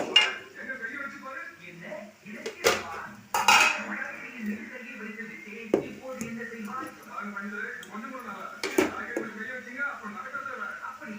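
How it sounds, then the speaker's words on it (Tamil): White rice being stirred into mint rice in a pot, with a spoon clanking and scraping against the metal in irregular knocks under steady nearby talking. "இப்போ நம்ம ஒயிட் ரைஸ் போட்டு நம்ம கிளறிக்கலாம் சாதம்."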